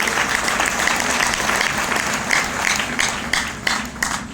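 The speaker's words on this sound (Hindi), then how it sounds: "तालियां एक और बजा लीजिए अपने लिए" Dense, loud applause from a large audience at a motivational seminar, many hands clapping steadily with a few sharper bursts toward the end.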